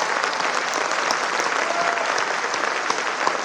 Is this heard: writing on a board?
no